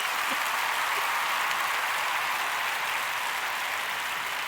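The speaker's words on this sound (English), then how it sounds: "the crowd is on their feet with a standing ovation" A crowd gives a standing ovation after a live rock performance, with dense, sustained clapping and cheering at an even level throughout and no voices rising above it.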